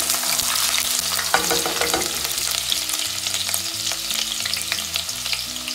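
Fenugreek seeds frying in oil in a pan for pappu pulusu, a loud, steady sizzle and crackle with stirring sounds and a clattering utensil, up close, with no speech.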